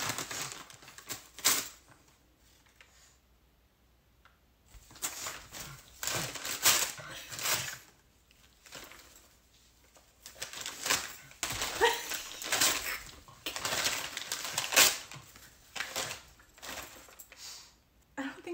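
A dog chews and crinkles paper in irregular bursts of wet, papery rustling, with quiet pauses between.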